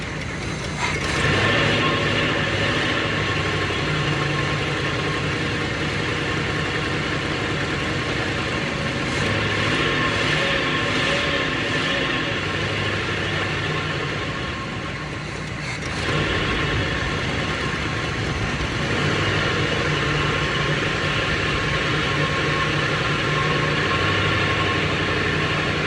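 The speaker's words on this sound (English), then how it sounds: "thing's idling." A 1971 Oldsmobile Cutlass Supreme engine idles roughly and continuously, a steady mechanical drone with a faint ticking clatter and a brief dip partway through, with no talking.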